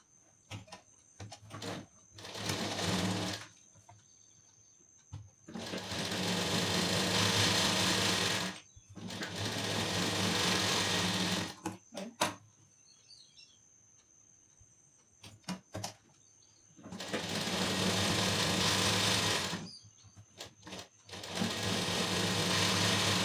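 Sewing machine stitching blouse and lining pieces, running in several sustained bursts of steady whirring with short pauses between, close and fairly loud.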